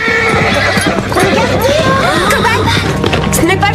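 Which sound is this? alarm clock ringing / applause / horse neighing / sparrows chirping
horse neighing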